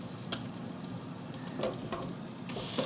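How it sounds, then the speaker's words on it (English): Burgers sizzle and fry in an air fryer, a steady close hiss with a few brief crackles and pops, no talking. "can you hear the sizzle?"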